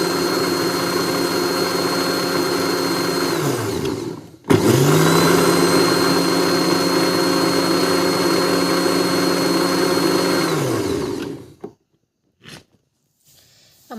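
Mixer grinder jar whirring as it blends eggs, oil and sugar, a steady loud motor hum in two long runs separated by a brief stop, then cutting out into near silence with a few small clicks.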